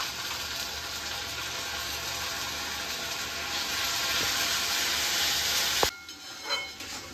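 Ginger garlic paste sizzles steadily in a hot pan with a dense, even hiss that swells slightly, then a sharp clank near the end as the frying drops back and quietens.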